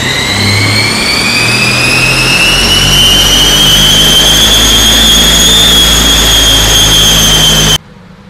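A chip-tuned 2018 Audi A6 C8 diesel accelerates hard, its engine note rising steadily and loud for about eight seconds before cutting off abruptly.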